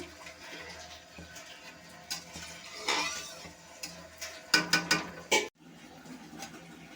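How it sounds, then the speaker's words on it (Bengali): Water poured into a pan of egg and small potato curry, with a splashing pour in short bursts and a couple of clanks against the pan, close, followed by a quieter simmer. "এখন আমি জল দিয়ে দেব। জলটা দিয়ে দিয়েছি।"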